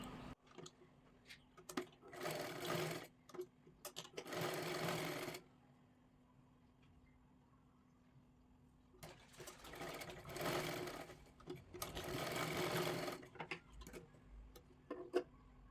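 A sewing machine stitches a blouse in two long bursts of steady, rapid running, with a quiet pause between them and a few short clicks around each run.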